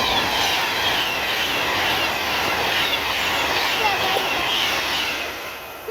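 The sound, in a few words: train passing through Lockerbie station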